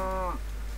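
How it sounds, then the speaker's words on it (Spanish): A single short cow moo from the Minecraft video game, a brief tonal low call that fades quickly, close and clear. "Una vaca."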